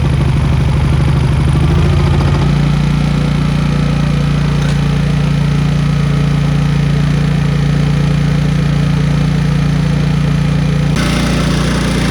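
The engine of a 1980s Honda EX650 motorcycle runs loud and close after a carburetor rebuild, a steady low mechanical drone with a faint clatter that shifts slightly in tone early on and holds steady to the end.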